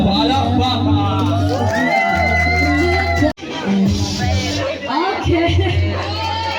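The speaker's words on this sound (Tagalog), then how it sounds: "Palakpakan!" A crowd at an end-of-year anniversary party cheers, whoops and shouts loudly and continuously, with an amplified voice and music mixed in.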